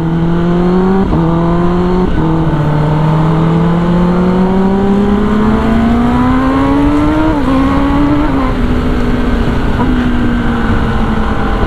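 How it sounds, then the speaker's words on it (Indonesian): A Kawasaki ZX10R motorcycle pulls hard with a loud, close exhaust note, its engine pitch climbing steadily with several quick gear changes and brief dips, sustained throughout. "ini motor kalau ditarik ternyata keluar juga suaranya guys"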